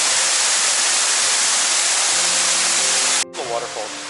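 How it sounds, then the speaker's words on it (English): Steady, loud broadband roar of the Soi Sawan waterfall fills the first three seconds, then drops abruptly to a softer rushing wash with a voice talking over it. "The waterfall."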